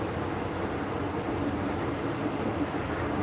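A train rolling along in Thailand, a steady broadband rumble and rattle of the carriage heard from inside, constant and fairly loud.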